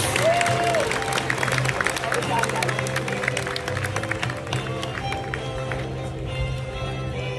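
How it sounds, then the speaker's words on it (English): An audience at a school moving-on ceremony applauds the Emerald team and their teachers, a steady wash of clapping under a voice speaking over a sound system. "A round of applause for them, please, and their teachers"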